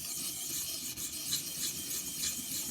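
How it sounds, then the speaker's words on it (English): A kitchen knife blade is sharpened on a stone, producing continuous close gritty rasping strokes with a slight rhythmic swell, heard alone. "as the stone glides along the blade"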